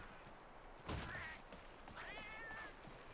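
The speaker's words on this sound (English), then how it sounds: "I love that cat noise you just heard because I hear it in other games." Cat meow sound effect from the video game Monster Hunter Generations Ultimate: a soft thump followed by two short, high, clear meows about a second apart, heard alone over faint game background.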